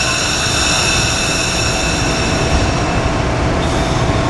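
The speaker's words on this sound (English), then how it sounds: "Train 605 should be departing already." Commuter train 605 pulling out of Paoli station at rush hour, led by AEM-7 engine 950 and cab car 9632; a loud, continuous rumble and hum of rolling stock with high wheel squeal, steady throughout.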